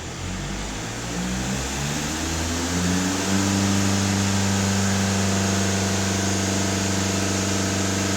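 Skoda Octavia Scout engine held at raised revs during an adaptation routine, steadily climbing to a higher pitch after a few seconds and then sustaining a loud, even drone with no talk.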